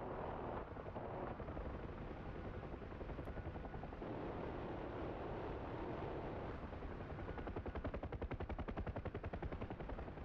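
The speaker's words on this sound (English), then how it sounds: "Engaging with guns." The door guns of a UH-1H Huey helicopter fire at insurgent vehicles in a combat simulation, sounding as long rattling bursts over the steady thump of the rotor, with the firing growing denser toward the end.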